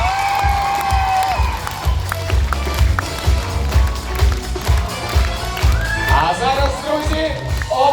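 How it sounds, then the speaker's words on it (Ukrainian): At a music ensemble's anniversary concert, the audience applauds the students with lively clapping and stamping-like thumps, a voice also speaking over the noise. "Оплески для учнів надії Анатоліївни."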